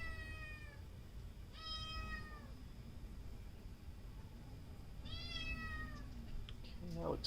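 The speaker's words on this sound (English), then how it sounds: "there's a kitten in here now" A small kitten mews in a garage workshop during a Kohler mower repair, with three short high-pitched meows spaced apart, faint against a low steady background hum.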